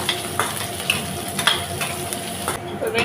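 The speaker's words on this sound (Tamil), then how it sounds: "ரெண்டு பெரிய வெங்காயம் கட் பண்ணி வச்சுருக்கேன் சேர்த்திக்கலாம் கலந்து விட்டுக்கலாங்க" Chopped large onions fry in a pan for a Tamil-style ivy gourd gravy, with a constant oily sizzle and a spatula scraping and stirring in short strokes, close and alone.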